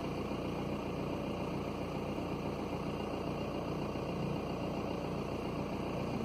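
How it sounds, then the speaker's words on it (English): A car engine idles steadily while being run for a diesel particulate filter clean, a low continuous rumble with an even hum and no change in pace, close by and with no talking. "Just keep it idling for 5 minutes."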